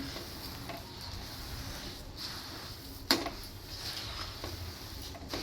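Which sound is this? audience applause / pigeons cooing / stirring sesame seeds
stirring sesame seeds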